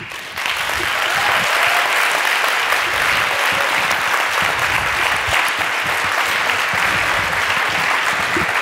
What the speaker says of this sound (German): einen großen Applaus für die Botschafterin der neuen Zeit